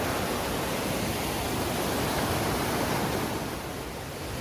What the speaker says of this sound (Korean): 다리를 건너니다 여기도 멋진 폭포가 있네요.